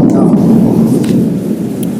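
Thunder rumbles loud and close during a lightning storm at night, a deep sustained roll lasting about two seconds.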